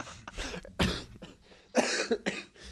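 A burst of harsh, repeated coughing close to the mic, several rough hacks in quick succession with raspy breaths between.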